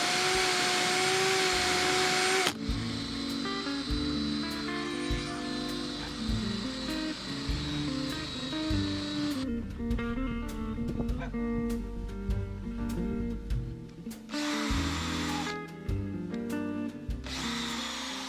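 Rotary drill fitted with a polishing head buffing coil covers for a Honda Type R mini supercar build, a close, loud, continuous motor whine that shifts in pitch as pressure changes, with a brief louder burst near the end.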